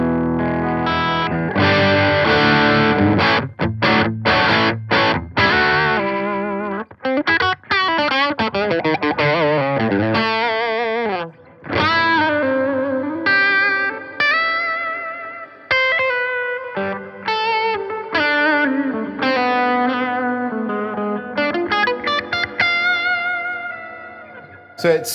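Chapman electric guitar played through the bridge pickup with a crunchy, slightly reduced-gain overdrive tone and reverb, sounding chords and single-note lines with sharp stops and ringing sustains, loud and close with no talking.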